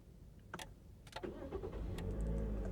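Toyota Corolla Cross XS, a non-hybrid SUV, cranking briefly with a couple of clicks before the engine catches and settles into a steady, low idle, heard from close by.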